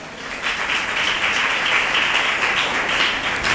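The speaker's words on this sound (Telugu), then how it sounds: "మరి చప్పట్లు కొట్టరా?" A church congregation clapping during a Telugu Christian sermon, a dense, even burst of applause that swells quickly and holds steady, moderately loud, with no voice over it.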